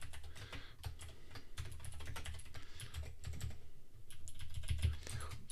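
Rapid, steady typing on a computer keyboard, dense clicks and clacks running throughout at a close, moderate level with no talking.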